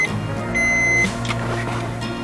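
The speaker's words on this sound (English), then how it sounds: "You can hear the beep sound because of the the seat belt." Seat belt warning chime inside a Maruti Celerio car, a steady electronic beep held for about half a second over a low engine hum in the cabin, close and moderately loud.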